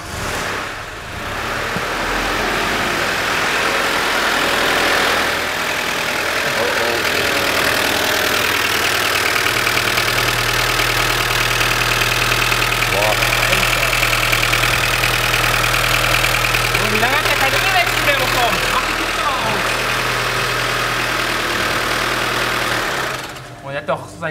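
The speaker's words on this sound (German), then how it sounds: "Achtung, ich starte den Motor jetzt." An Audi A4 engine that has gone years without an oil change cranks and catches, then settles into a steady, rough idle with a low rumble that continues until it cuts off at the end.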